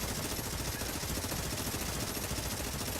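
A Tommy gun fires in The Division shooter game as dense, continuous rapid automatic fire, steady and unbroken at moderate loudness with no talk.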